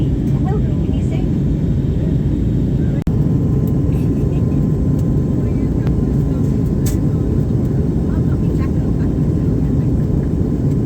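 Steady loud airliner cabin roar during the descent into Las Palmas, Gran Canaria, a broad low rumble holding evenly throughout, with a single sharp click near the start and faint voices in the background.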